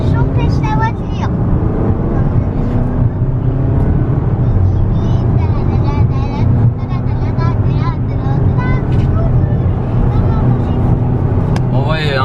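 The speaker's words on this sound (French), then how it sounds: "c'est le moteur qui chante" A Volvo XC40 accelerates hard from standstill, its engine droning and rising steadily inside the cabin, a loud continuous rumble with road noise and voices over it.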